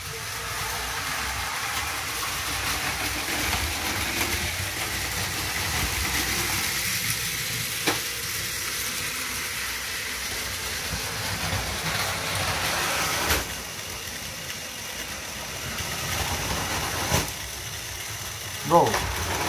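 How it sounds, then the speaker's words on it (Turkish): A toy train runs on a train control station set, giving a steady mechanical whir with clicking gear and ratchet sounds throughout, plus a few sharp knocks, close by. "Şu treni de çalıştır istersen."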